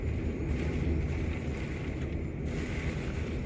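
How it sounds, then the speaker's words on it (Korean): Strong typhoon winds from Typhoon Maysak buffet Centum City in Busan at night, a constant loud roar with rumbling gusts and blustering against the microphone, no voices. "바람이 점점 더 세지는 것 같습니다."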